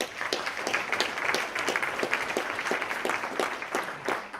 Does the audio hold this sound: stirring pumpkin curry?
no